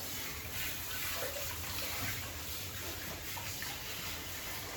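Running water rinses a Shih Tzu during a full grooming session, a steady broadband spray or gush from a hose or tap that continues without break at close range and moderate volume.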